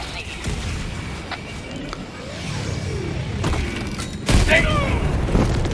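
A heavy 500 kg bomb explosion booms in Helldivers 2 amid continuous rumbling game noise, followed by crackling debris and ringing tones; loud and close.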